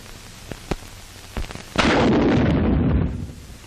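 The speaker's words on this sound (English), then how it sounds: "Demonstrating wire laying by bazooka with wire dispenser" A bazooka fires a wire dispenser holding 3,300 feet of specially wound wire to lay communication line at a 1937 Signal Corps demonstration: a few sharp pops, then a loud sustained roaring blast lasting over a second.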